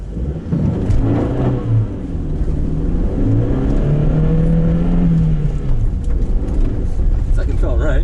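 A car engine revs and drones steadily at a field rallycross event, its pitch rising and falling, with people talking over it throughout.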